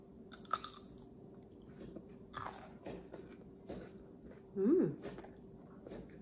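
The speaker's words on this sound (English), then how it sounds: "This is my first time eating a cucumber with peanut butter. So let's taste." Cucumber with peanut butter bitten and chewed up close, crisp crunching bites and wet chews in an irregular rhythm, faint overall, with a brief voiced murmur near the end.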